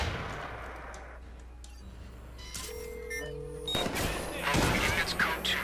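Gunfire in a Watch Dogs 2 firefight, with a few sharp bursts of shots rising in the latter half over a busy game soundscape that includes tonal interface beeps.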